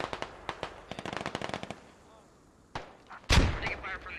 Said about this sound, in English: Taking fire from the west as well.